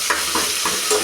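Tomatoes sautéing in a pan for chicken biryani: a close, loud sizzle with rhythmic stirring strokes coming roughly every third of a second.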